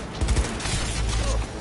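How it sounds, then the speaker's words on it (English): Rapid gunfire from a video game shootout in Cyberpunk 2077 on a base PS4, a dense burst of shots with mechanical clatter filling the whole stretch at steady loudness. "Oh, I'm shooting it."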